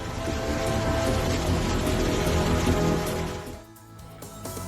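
Heavy cloudburst rain pours down steadily over Ganderbal in Jammu and Kashmir as a loud, dense hiss that eases briefly near the end.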